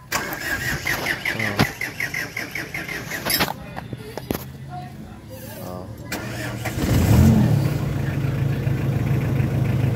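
A car engine running with its catalytic converter removed starts and settles into a steady, low exhaust rumble. Before that, clanking and workshop noise play under someone speaking.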